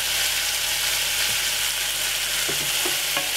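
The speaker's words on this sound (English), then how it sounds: "So let that fry for at least a good 5-6 minutes." Mackerel frying in a pan for a Jamaican mackerel and rice dish gives a steady, close sizzle with a few sharp clicks of stirring near the end.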